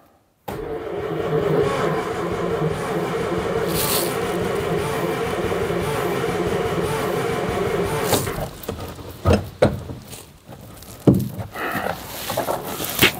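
A Daimler Consort barn-find engine with a sticking throttle cranking over after the ignition is switched on, a loud sustained churning drone for several seconds, then cutting out into scattered knocks and clunks.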